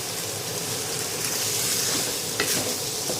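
Pork stir-frying in coconut milk for a Thai panang curry, a steady loud sizzle with the scrape of a spatula running through it and a brief sharper crackle near the end, with no one talking.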